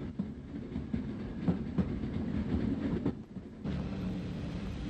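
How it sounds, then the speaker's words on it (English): A train pulling into Dungannon station, once the junction for the Cookstown line, in 1960s Ireland: a steady low rumble of wheels and carriages with faint rhythmic clicks, growing slightly louder near the end, with no voices. "Our train arrives at Dungannon, formerly the junction for the line to Cookstown"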